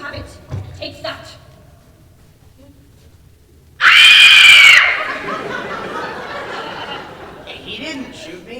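A woman's sudden piercing scream in a radio drama bursts out loud and close for about a second, after a few short sounds and before a low murmur of voices and noise trailing off.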